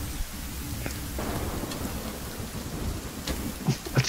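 Steady rain pours down in a video game, with low thunder rumbling underneath and a couple of louder close rumbles near the end; no talking.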